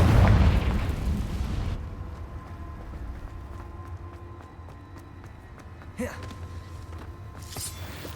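In Hogwarts Legacy, a Confringo blasting spell explodes with a loud, booming burst at the start that fades into a low rumble, followed by two smaller sharp pops later on.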